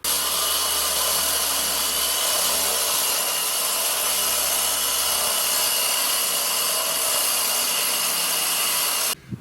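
A power tool cuts through a cottage wall during renovation, a loud continuous gritty grinding roar held steady and close for about nine seconds before stopping abruptly.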